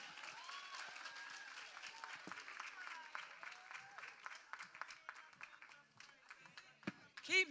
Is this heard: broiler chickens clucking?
no